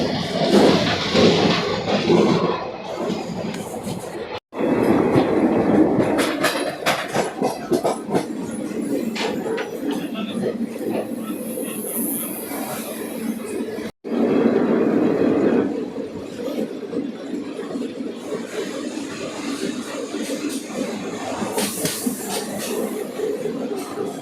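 Inside a sleeper coach of the Gowtami Express passenger train running from Kakinada Port toward Rajahmundry, a continuous rumble and hiss of the moving carriage carries on, with faint chatter from passengers.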